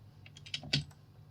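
Computer keyboard in a SketchUp session gives a brief cluster of a few soft key taps, quiet and close, with no talk.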